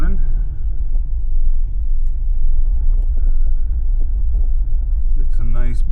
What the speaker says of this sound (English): we're gonna go for a little drive